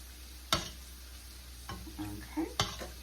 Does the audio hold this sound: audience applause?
no